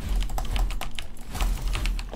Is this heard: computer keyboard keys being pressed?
yes